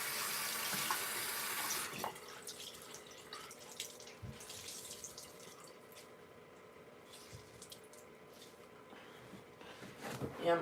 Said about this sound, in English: Rinse my rag out right quick.